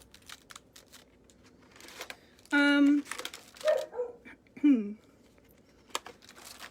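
A dog barks a few times in the background, fairly distant, amid faint rustling and soft room noise.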